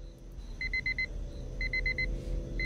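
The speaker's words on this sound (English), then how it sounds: "alarm clock. I should probably find it and turn it off" An alarm clock rings inside the video game Redwood Lake Incident, giving two quick bursts of about five sharp, high electronic beeps each, separated by a short pause, over a low ambient hum.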